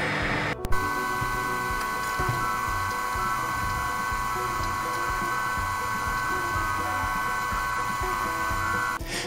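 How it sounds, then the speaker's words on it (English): A laser cutter works through wood veneer held to the bed by magnets, giving a steady whirring fan and motor hum with a constant high tone, close and even throughout, with faint ticks. "separate the outer ring in three pieces so we can cut it out on the laser cutter"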